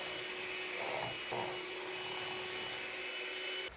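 An electric mixer with high speed settings beats cake batter for a pumpkin roll cake until it turns light in color. It gives a steady, close whirring motor drone with a constant hum, running alone throughout.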